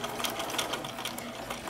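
Sewing machine stitching a fabric potholder, a fast rhythmic mechanical whirr with quick needle taps, close and steady for a brief burst without talking.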